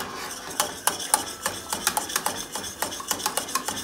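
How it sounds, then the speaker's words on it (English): Egg batter for custard is whisked vigorously in a pan, a fast, steady run of sharp clicking taps from the whisk striking the sides, close and fairly loud with no talking. "Here's our egg batter. We're going to keep whisk it vigorously."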